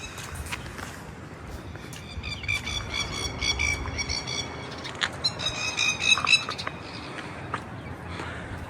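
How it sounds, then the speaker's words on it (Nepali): Birds squawk and chirp among greenery in New Zealand, short bright calls scattered over a faint rustling background, clustering more densely toward the middle before thinning out. "हरियाली चराचुरुङ्गी कराएको"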